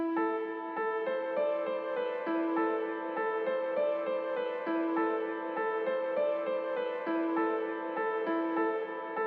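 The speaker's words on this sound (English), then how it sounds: "So I just used a grand piano and strings preset in Logic" A simple grand piano melody layered with a sustained strings preset in Logic, part of an Afrobeats-style beat; steady, evenly paced notes over a continuous warm pad, moderately loud throughout with no voices.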